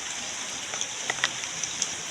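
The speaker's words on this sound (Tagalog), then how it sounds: "at umuulan pa" Rain falls steadily at night outdoors in a dark rural area, a constant soft hiss with a few louder drops tapping nearby.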